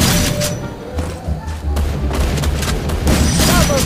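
A grenade blast in a video game lands as a heavy boom with loud thudding rumble and crackling debris, followed by continuing gunfire-like bursts, all at high level.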